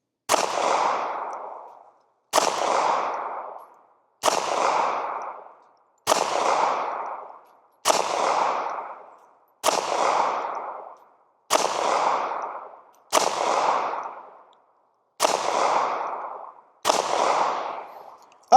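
A Ruger LCP MAX micro pistol fires ten evenly spaced shots at short range, each a loud, sharp report with a brief ringing decay, about two seconds apart.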